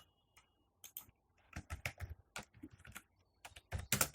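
Irregular clusters of quick keystrokes on a computer keyboard, close but fairly quiet, with short pauses between bursts and no talking.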